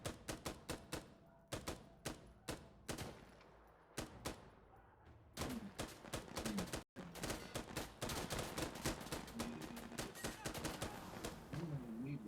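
Rapid gunfire in the video game Insurgency Sandstorm, fast strings of sharp shots with short breaks between them, loud and continuous toward the end.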